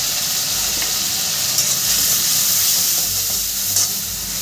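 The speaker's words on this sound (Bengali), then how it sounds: "চিংড়ি, কাঁচা লঙ্কা আর রাঁধুনি ফোড়ন টোটালটা দেখো আমি ভাজছি।" Shrimp frying with green chili and radhuni spice, alongside red and green amaranth greens in a pan, sizzling steadily with a broad hiss and occasional stirring scrapes throughout.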